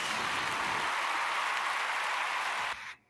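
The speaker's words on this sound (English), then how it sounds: "Let's give them a clap." Studio audience at a live CPA show gives a sustained round of steady clapping, a dense even patter that holds at moderate level before cutting off abruptly at the end.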